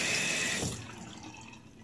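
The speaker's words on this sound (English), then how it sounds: "So, water, splash my face." Water splashed by hand onto a face wearing fiber lashes and eyeliner: a close, wet splash burst that tapers into soft dripping within two seconds.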